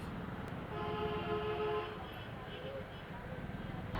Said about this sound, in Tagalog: Huwag masyadong pindot ng busina.